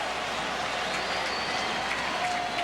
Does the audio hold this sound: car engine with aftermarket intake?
no